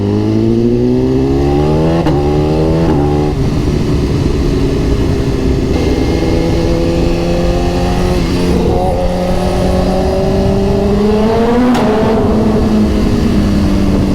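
A BMW S1000RR sportbike accelerates hard through a tunnel, its engine screaming upward through several rapid gear changes, loud and close with echoing reverberation and no talk over it.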